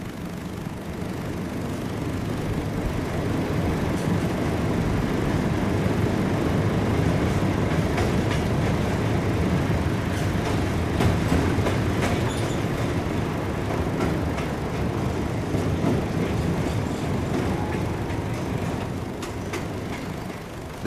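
Continuous rumbling and clattering of a freight train rolling along the rails, steady and fairly loud throughout with no voices.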